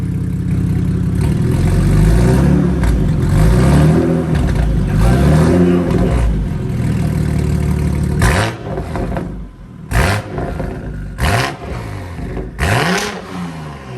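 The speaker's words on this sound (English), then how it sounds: "Rev it slightly." A BMW M240i with a titanium exhaust revs up and down in repeated rising and falling sweeps, then sharp short blips with brief pauses between, loud and close.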